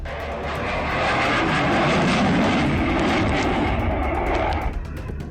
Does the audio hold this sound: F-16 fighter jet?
yes